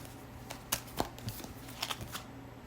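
Tarot cards are shuffled by hand in quiet, close, papery riffles and soft taps, a few brief bursts over about three seconds with no voice.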